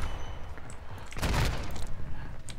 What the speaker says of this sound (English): We got the KV Broadside Orion here. It's a very strange gun.